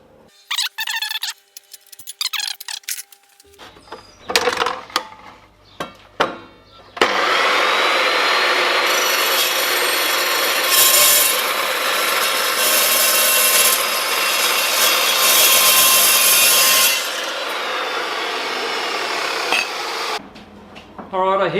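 A flash saw cuts a 250 mm metal piece for DIY welding clamp squares, a loud continuous grinding whine lasting about thirteen seconds, preceded by brief handling clatter and followed by a few knocks.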